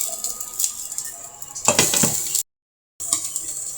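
A lid being put on a cooking pot of fish curry: metallic clinks and a scraping clatter, with faint sizzling underneath, then a brief silence before soft sizzling resumes.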